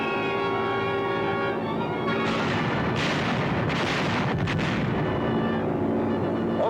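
Bombs dropped from a Consolidated B-24 bomber explode in a dense, continuous roar of deep rumbling blasts. The sound is loud and sustained throughout, with heavier bursts rolling over one another and no voices.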